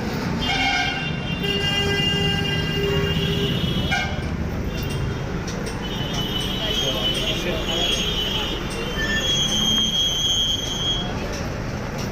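A train at Barrackpore railway station in West Bengal rumbles steadily and sounds sustained horn toots near the start and again later, heard from the platform area with continuous loud background noise and people talking.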